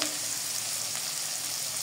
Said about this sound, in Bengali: চিংড়ি মাছটা আমি ভালো করে ভেজে নিব।